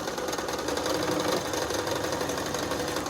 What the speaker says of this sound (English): I'm going to sew to that seam